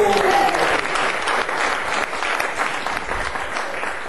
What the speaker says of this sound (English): would you join me in giving a warm round of applause for Keith Marchando?